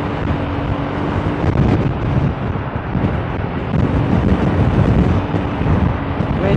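Loud, buffeting wind rush from a Kymco Xciting VS 400 scooter cruising fast on an expressway, with the engine drone buried under constant wind noise and no talking.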